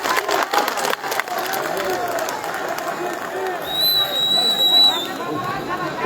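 A crowd at a political rally applauds in a broad, sustained wash of clapping with cheering and chatter mixed in, fairly loud and continuous, with voices heard over it.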